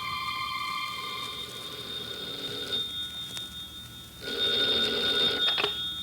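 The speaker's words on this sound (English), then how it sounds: "when a telephone rang in a suite at the Hotel Vendôme in Paris" Old-fashioned telephone bell ringing in a hotel suite in Paris, two loud sustained rings separated by a short pause, close and alone.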